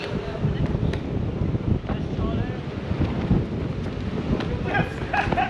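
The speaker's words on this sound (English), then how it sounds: "It's really windy, it's quite hard to deal with." Strong gusty wind buffeting the microphone outdoors, loud, steady and roaring across the whole stretch, with faint higher whistles near the end.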